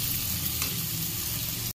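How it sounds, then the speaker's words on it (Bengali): Cauliflower fries in a pan, giving a steady, even sizzle that stays at one level for under two seconds and then stops abruptly, with no voices. "হচ্ছে ফুলকপি ভাজা, ঢাকা দিয়ে দিয়ে ভাজবো"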